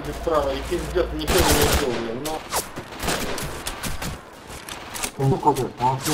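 Covering gunfire in the World War II shooter game Red Orchestra, with rapid bursts and single shots cracking loudly and repeatedly over several seconds, mixed with a voice talking over the battle.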